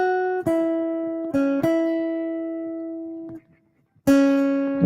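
Acoustic guitar playing sustained notes with a slide between pitches, a few plucked attacks ringing out and decaying, a short silence, then another strong strum, close and solo.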